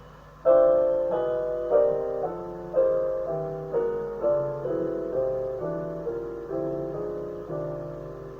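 Jazz piano exercise on a two-five progression with tension chords, minor seventh with ninth and eleventh moving to dominant seventh with flat nine and flat thirteen, played as a steady series of voiced chords roughly once per second, each struck and decaying, alone.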